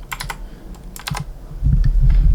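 Clicky typing on a Ducky One mechanical keyboard with Cherry MX Blue switches, a few quick bursts of sharp keystrokes, close and loud, with a low rumble rising near the end and no talk.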